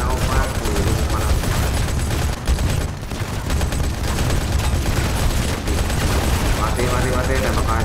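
Turret gunfire in the mobile shooter Modern Combat 5 comes as dense, sustained automatic bursts with booming impacts, loud and continuous with a brief lull in the middle, while a player talks excitedly over it.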